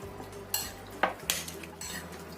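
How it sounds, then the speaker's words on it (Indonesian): A spoon clinks and scrapes against a bowl while stirring a sauce mixture with sesame oil for a crab dish, a few distinct metallic taps over faint kitchen background, no talking. "Kita aduk sampai tercampur rata"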